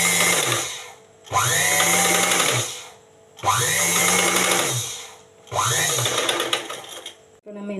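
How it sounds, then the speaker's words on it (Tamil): Electric sewing machine stitching a nighty, running in four sustained whirring bursts separated by short pauses, each start and stop clearly audible, loud and close. "நம்ம இப்போ இதை தச்சு எடுக்கணும்."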